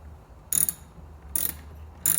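Ratchet tightening a taillight screw on a 2003-2008 Infiniti FX, three short bursts of crisp clicking pawl strokes spaced about a second apart, close and clear against a quiet background.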